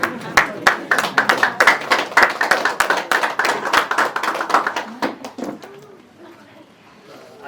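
Wedding guests clap steadily in a brisk, sustained round of applause that is close and loud, then it fades away toward the end.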